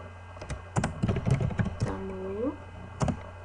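Keystrokes on a computer keyboard while text and captions are typed into a document, sounding as scattered close taps in short bursts over a low background hum, with a brief voiced sound partway through.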